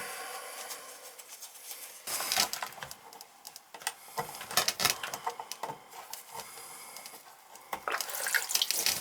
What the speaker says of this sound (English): somebody's using the water upstairs.